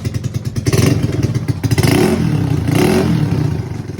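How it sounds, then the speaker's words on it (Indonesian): A Yamaha Mio scooter with a cheap racing exhaust revs loudly up close, rising and falling in several light throttle blips with a rough, crackling rumble. "jadi ini suaranya seperti itu."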